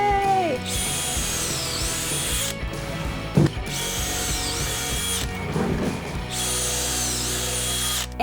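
A power drill drives 2.5-inch pocket hole screws into glued, clamped wooden boards in three sustained whirring runs with pauses, close and steady, a clunk sounding between bursts.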